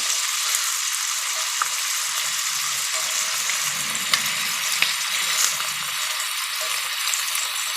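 Chicken pieces browning in a hot frying pan, a steady broadband sizzle with faint crackles and a couple of sharp pops, continuous and fairly close, no talking.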